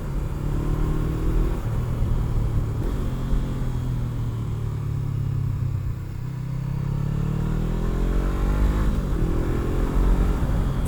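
Honda CBR500R motorcycle on a ride, steady loud engine drone with wind rumble and gear-change pitch sweeps rising and falling throughout.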